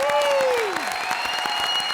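Studio audience applause on a comedy stage show, with dense clapping throughout and a falling tonal swoosh effect near the start.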